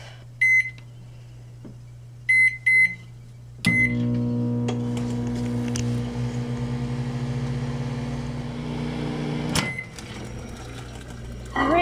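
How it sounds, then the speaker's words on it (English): A microwave oven heating a cup of water in a lab: a few clear beeps as it is set, then a steady electric hum with a low drone running for several seconds, ending in a sharp click and beep. "we're gonna put it in our microwave"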